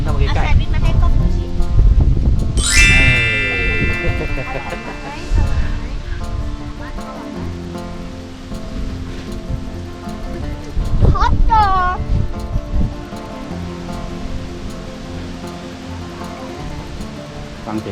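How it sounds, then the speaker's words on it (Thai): Steady wind rushes and buffets outdoors at a mountain campsite, a broad continuous roar with gusts, while people talk and other voices and noises mix in throughout. "ลมครับ"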